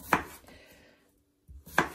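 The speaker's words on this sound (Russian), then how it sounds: "Картофель нарезаю вот такими вот кубиками." A couple of sharp knife cuts land on a board as potatoes are cubed, separated by a pause, close by with faint kitchen clatter.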